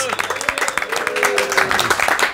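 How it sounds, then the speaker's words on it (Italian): Applause for the hosts at an evening gathering of Inter fan clubs in New York, many hands clapping in a fast, dense patter close by, with voices and cheers mixed in. "Un applauso ai Di Palos!"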